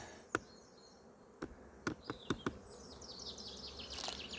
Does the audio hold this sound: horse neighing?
no